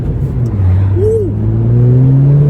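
A 10th-generation Honda Civic Si fitted with a MAPerformance street exhaust drones steadily while driving, its engine note climbing gradually and sitting close and fairly loud, with a brief whirring tone partway through.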